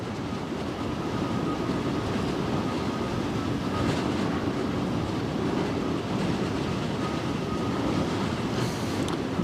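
A large ship passing on the stormy Westerschelde in the Netherlands, a steady loud low rumble with a faint high whistle running throughout, no talk.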